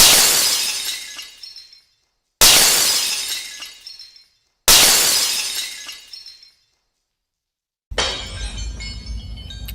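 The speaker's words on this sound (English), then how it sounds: "So I'm sitting here with a shattered windshield" A car windshield shatters in three loud, near-identical bursts of breaking glass, each crash fading over about two seconds, followed by a rougher crackling burst.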